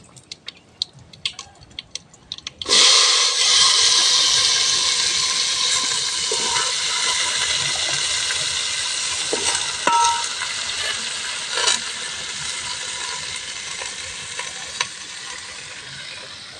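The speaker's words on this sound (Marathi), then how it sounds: "गरे फोडणीला टाकणार आहे" Jackfruit bulbs drop into a hot mustard-seed and asafoetida tempering on an outdoor wood-fired stove in a mango orchard. After a few quiet clicks, a loud sudden sizzle bursts out and continues steadily, with occasional stirring knocks.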